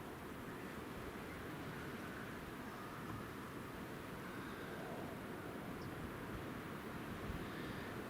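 An EasyJet airliner climbing away after takeoff at Newcastle airport gives a faint, distant, steady broadband roar that holds evenly throughout, with no voices.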